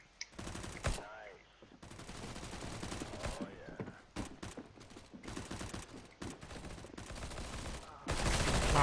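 Rapid automatic rifle fire from CS:GO Arms Race mode cracks out in repeated bursts over several seconds, with whooshing and clattering game effects between shots and a loud final burst at the end.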